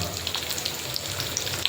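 Small garlic cloves frying in a pan with a pinch of asafoetida, a steady close crackling sizzle with scattered pops, quiet and continuous with no talk.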